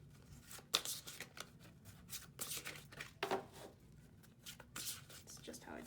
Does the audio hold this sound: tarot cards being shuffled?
yes